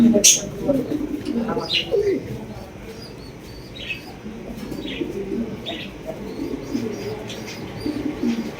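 Fancy and racer pigeons coo in a loft with soft chirps and a little wing movement, the birds close by while someone talks over them in Bengali.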